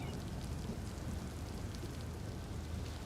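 Steady rain pours down over a lawn outside a house, with thunder rumbling in the background; a dense, continuous wash of falling water fills the whole stretch with no voices.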